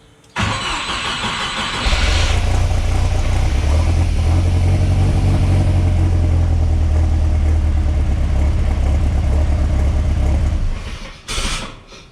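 A big-turbo 3.0L Mercruiser boat engine swapped into a Chevrolet S10 pickup cranks, catches and runs loud and steady at a rough cold idle, a deep low rumble that holds for several seconds before cutting out.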